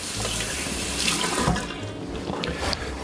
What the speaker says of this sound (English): Let's get a little rinse here.